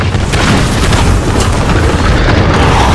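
A heavy cruise missile explosion in Call of Duty: Modern Warfare, a loud continuous booming rumble with crackling debris lasting about three seconds.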